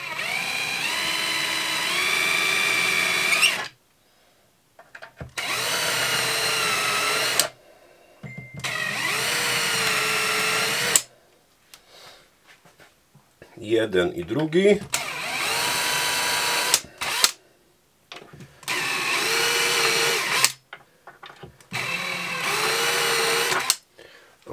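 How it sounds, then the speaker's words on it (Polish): A power drill with a guided bit whines in several bursts of a few seconds each, drilling pilot holes for concealed cabinet hinges in MDF, separated by short pauses, with a brief spoken phrase in one gap. "możemy sobie tym naszym wiertłem z prowadzeniem zaznaczyć, zrobić takie wstępne odwierty"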